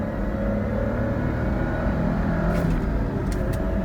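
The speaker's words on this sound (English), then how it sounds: "I'm gonna go pretty hard through the gears just to show you that the clutch doesn't slip or anything like that." A 5-speed manual Toyota 4Runner accelerating hard through the gears, its engine a steady, loud drone heard from inside the cabin with no talking.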